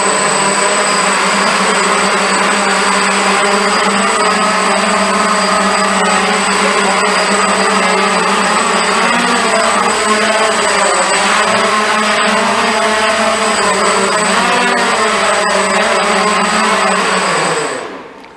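Multicopter drone on a Tarot frame with a KK2 flight controller, its motors running indoors as a steady, loud, whining hum with layered tonal harmonics that holds for about seventeen seconds, then cuts off abruptly.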